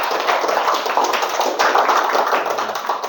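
Applause from a classroom audience during a teacher-training practical exam, a dense, steady clatter of many hands clapping together for about three seconds with no talk over it.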